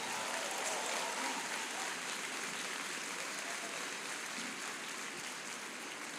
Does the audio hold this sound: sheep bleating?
no